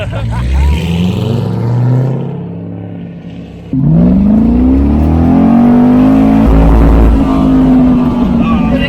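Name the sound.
car engine revving while driving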